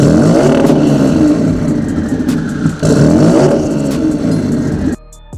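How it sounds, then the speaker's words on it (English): A Nissan VR38DETT Nismo V6 twin-turbo engine built to 1,000 horsepower, fitted in an Infiniti QX80 R-Spec, revs loudly and close up with sustained aggressive roars and brief dips before cutting off near the end. "VR38DETT Nismo V6 engine, the same power plant that drives the legendary Nissan GT-R."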